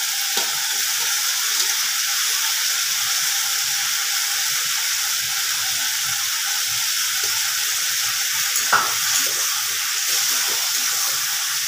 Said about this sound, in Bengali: আর পটলগুলোকে দিয়ে একসাথে সবগুলো কষাতে হবে।